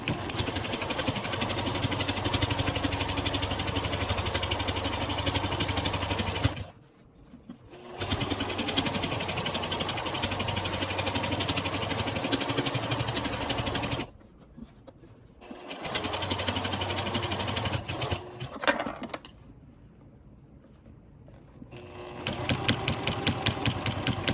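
A sewing machine fitted with a walking foot stitches quilt binding in long continuous runs of rapid, even mechanical chatter, stopping in several short pauses before restarting, loud and close with no talk.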